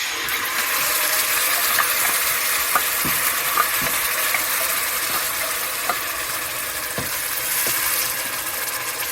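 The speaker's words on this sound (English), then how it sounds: "Next, I'll add my pureed tomatoes." Pureed tomatoes frying in a pan for coconut curry beans, giving a dense, continuous hiss and sizzle with occasional faint taps of a utensil, close and steady with no talking.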